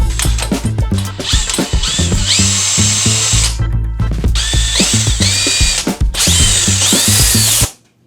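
A 5.5-inch hole cutter on a power drill boring through MDF, loud close grinding in repeated bursts with the motor whining up and down between pauses, ending as the drill stops.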